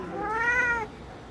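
A cat gives a single clear meow, a drawn-out rising and falling cry lasting under a second, fairly close and alone against a quiet background.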